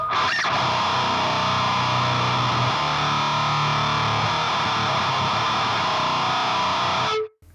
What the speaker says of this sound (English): The first option would be your standard power chord.